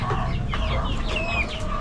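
Male grow-out meat chickens in cages on a farm, clucking and calling close by in a short, busy burst of overlapping bird sounds.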